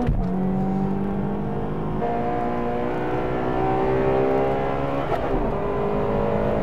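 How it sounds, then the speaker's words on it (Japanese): A Toyota Altezza accelerating hard on a race track during a close amateur race against an Integra, Civic and Skyline: a loud engine climbs steadily in pitch, with brief shifts breaking the rise twice. "さあ、アルテッツァの加速は。"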